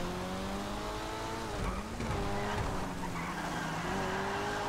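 A high-revving Annis 300R car engine in a GTA game, its harmonic whine rising and falling as it shifts, with tires squealing through a brief skid midway, loud and continuous throughout.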